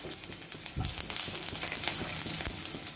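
Mustard seeds, urad dal, chana dal, cumin and ginger pieces fry in hot oil with a dense, continuous sizzle and small crackles and pops, close and steady throughout.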